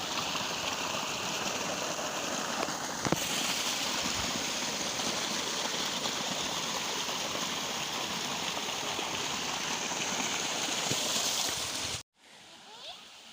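Water flowing through a farm irrigation channel, a steady broadband rushing and gurgling close by that continues evenly before cutting off near the end.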